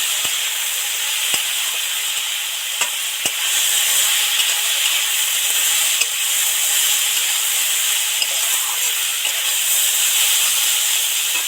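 Steady hiss and sizzle of a little water hitting fried spices and chilli powder in hot oil, with steam rising, continuous and fairly close, with a few faint clicks.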